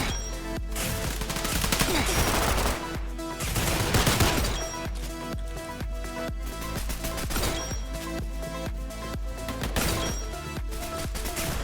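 Rapid close-range shotgun blasts in a fast-paced gun video game, sharp bursts repeating in quick clusters with loud, dense overlapping shots and game effects.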